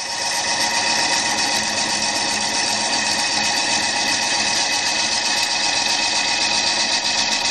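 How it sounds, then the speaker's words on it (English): A wood lathe spins a glued-up wooden bowl blank, giving a steady, loud, continuous mechanical whir and hum with a faint repeating tick, and no talking. "I'm going to use a lathe. This thing's going to be spinning around."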